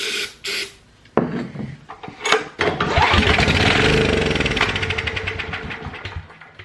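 Generator engine fed starting fluid through the carburetor, with a couple of clicks and short cranks, then a loud ragged turnover that catches and runs roughly for a few seconds before fading down.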